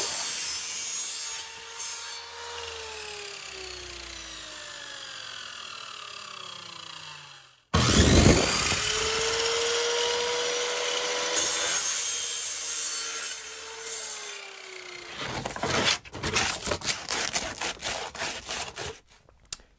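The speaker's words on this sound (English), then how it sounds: "cut it on my saw, sand the end of the poles," Wooden poles for a pulk sled being cut on a power saw and their ends sanded, with harsh broadband whining bursts, a sharp cut-off midway, then a renewed sustained rasp ending in choppy, uneven scraping strokes.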